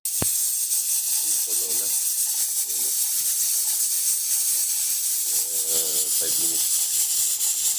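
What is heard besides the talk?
goat head and feet sautéing in a pot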